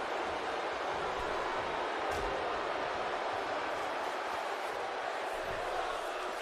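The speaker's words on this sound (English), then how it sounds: "You hear the crowd." Roaring crowd at a professional wrestling event, a dense, sustained wall of cheering and noise that stays loud and unbroken for several seconds with no clear individual voices.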